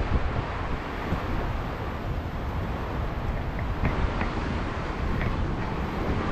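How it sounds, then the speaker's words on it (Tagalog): Strong wind gusts in the open air outside barracks, roaring and buffeting the microphone as a continuous low rumble with no pause, loud and close, with no voices. "grabe lakas talaga ng hangin, no. Sa open air na yan"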